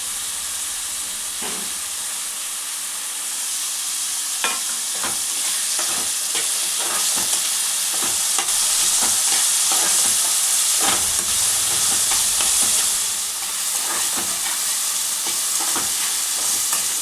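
Fenugreek leaves and green chillies fry in a pan with a constant loud sizzle and hiss, broken by repeated scraping stirs throughout.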